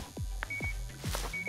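Short electronic beeps from a Gas Station Simulator game, two thin steady tones about a second apart, sounding over busy game background noise with no one talking.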